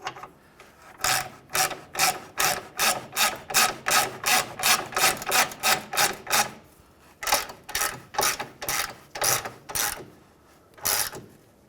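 Ratchet snugging a 19 mm control arm bolt on a Hyundai Sonata, a close run of rapid rhythmic clicking strokes, about twenty pulls in a row, a short pause, then several more.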